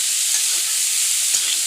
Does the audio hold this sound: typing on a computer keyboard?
no